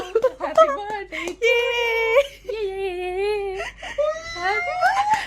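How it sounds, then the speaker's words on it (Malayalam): A child cries and whimpers at a birthday gift unboxing, with wavering, high-pitched sobbing wails close by and broken by short gasps. "ജബ കരയാണോ?"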